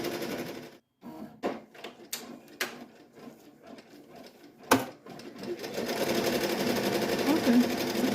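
A Brother SE 1900 embroidery machine with a magnetic hoop stitches a beanie, starting with short bursts and clicks and then settling into a steady fast whir, heard up close.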